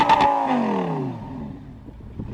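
Deep exhaust roar from a Lamborghini Gallardo fitted with dual exhausts, loud and close, falling in pitch as the revs drop and fading to a low idle.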